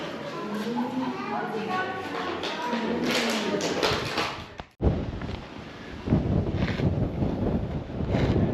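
Strong wind gusts across the microphone at Old Fort Niagara as a buffeting, rumbling roar that continues throughout, with people talking under it.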